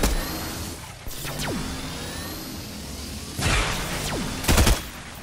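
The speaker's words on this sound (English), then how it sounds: "Get more practice with the ray gun." Ray gun fire during a Fortnite-style duos battle royale match: a few sharp zapping shots and whooshes, the loudest burst near the end, over steady game background noise.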